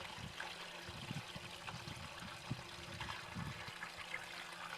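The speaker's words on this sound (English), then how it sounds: "the water coming out of the hose is cooler" Water trickles from the hose of an April 2019 solar water heating prototype, a faint, steady stream with a low background hum.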